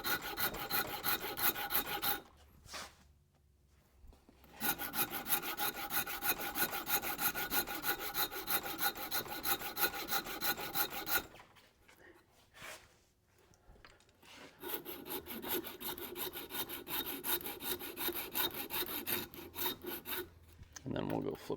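The coarse side of a rasp files across wooden stock, likely an axe handle for a Craftsman small-eyed boy's axe, in long, close, rhythmic scraping strokes that twice pause briefly before resuming.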